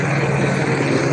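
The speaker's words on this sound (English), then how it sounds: "Boy, that helicopter is loud." An LAPD police helicopter hovers overhead a Los Angeles street, its loud, steady rotor and engine drone filling the air continuously without any speech.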